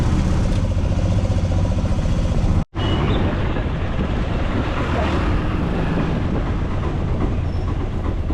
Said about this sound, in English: taking a motor rickshaw to a bus terminal